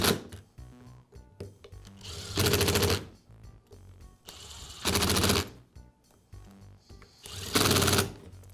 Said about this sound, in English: and then I'll finish them with the impact driver